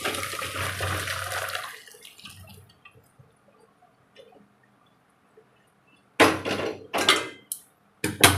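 Hot water from boiled ivy gourd pieces pours off in a loud gush that tapers into sparse drips, then more splashing bursts return near the end.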